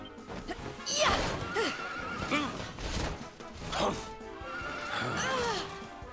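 A horse in the video game Dragon Quest 11 gives several loud, shaky whinnies in quick succession, with faint in-game sound beneath.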